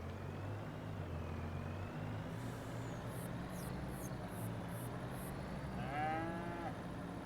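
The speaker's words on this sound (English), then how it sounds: "That cow mooing. I was not expecting that." A cow in the Farming Simulator 25 video game gives a low moo, heard over a steady rumble of engine and machinery noise with faint chirping tones, no talk present.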